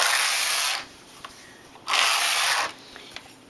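A domestic knitting machine carriage is pushed across the needle bed for two rows in a contrasting trim colour, two close rasping sweeps of under a second each separated by a quiet pause with small clicks.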